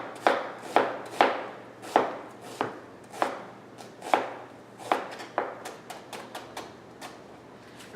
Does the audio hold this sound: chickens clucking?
no